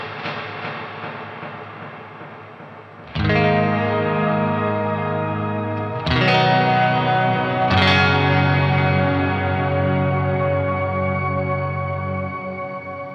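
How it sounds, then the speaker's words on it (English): A Matthews Effects reverb pedal with delay on electric guitar: sustained chords bloom into long washy tails, with three fresh strums roughly three seconds apart each swelling and echoing over the lingering decay, loud and alone. "That is a cool sounding reverb. It sounds like there's delay in there."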